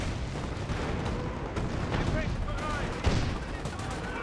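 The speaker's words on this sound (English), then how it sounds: "Nope, got more Hotchkiss barrage there." Artillery barrage from a Hotchkiss in the World War II strategy game Company of Heroes, a dense, continuous rumble of gunfire and explosions with one sharper blast near the end, with commentary talk mixed in.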